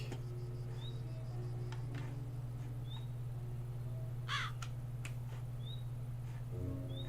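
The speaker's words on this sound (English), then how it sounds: "I'm gonna get myself a pet crow real quick." Pet crow in a modded Minecraft game giving several sharp caws spread across the clip over a steady low game hum, with no talk.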